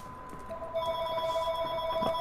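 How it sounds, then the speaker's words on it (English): A telephone ringing inside The Witcher 3: Wild Hunt game session, a steady electronic ring tone with sustained tones, clear and continuous, no talking over it. "Bro, I am about to unplug this phone."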